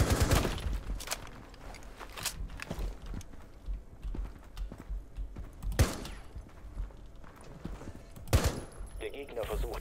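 Gunfire in Rainbow Six Siege, a tactical shooter, with sharp loud shots and short bursts scattered among footsteps and clatter, mixed with game sounds and faint voices.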